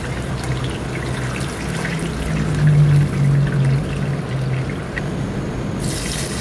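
Annatto seeds melted in vegetable oil, then the oil poured and strained, a steady close trickle of liquid running for several seconds with a brief brighter splash near the end.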